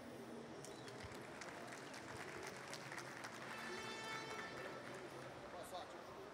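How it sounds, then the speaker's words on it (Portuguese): An audience on a main stage at a technology event gives applause for Guilherme, a faint, steady wash of clapping from a distance with a voice murmuring through it. "uma salva de palmas pro Guilherme"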